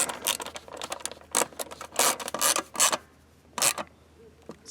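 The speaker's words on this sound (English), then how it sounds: "So with the bottom all cleaned up and the O-ring lubed with some oil, go ahead and cinch that back down." Someone tightens a fuel pump bowl back down by hand on a Kohler Command engine, producing close, intermittent scraping and rasping bursts separated by short pauses.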